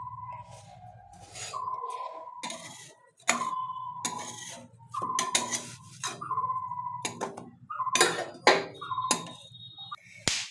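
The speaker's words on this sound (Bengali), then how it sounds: "বন্ধুরা আমি কড়াইটা চেঞ্জ করে দিলাম" A kadai cooking pan clanks and scrapes as it is changed and handled, with several sharp metallic knocks and a ringing tone between bursts, close by and moderately loud.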